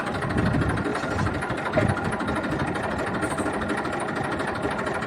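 A Massey Ferguson 245 J series tractor engine idles steadily nearby, a continuous mid-pitched chugging hum with no talk.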